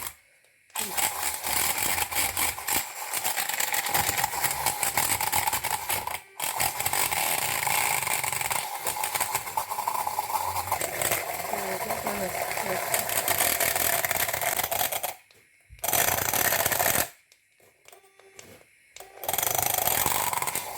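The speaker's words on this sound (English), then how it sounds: "So I will use my" A loud, steady motorized whirring of a blender emulsifying a mixture runs almost continuously, cutting off abruptly a few times with short silent gaps before starting up again.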